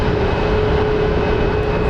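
Steady broadband roar of a four-year-old Embraer 175 jet airliner at Phoenix Sky Harbor airport, loud and continuous throughout with a sustained whine on top and no talk.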